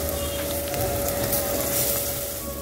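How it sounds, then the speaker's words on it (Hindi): Marinated beef pieces frying with onions in a hot pan, producing a loud, dense, continuous sizzle heard close up with no talking. "इसे प्याज के साथ अच्छे से फ्राई कर लूँगी 1-2 मिनट तक"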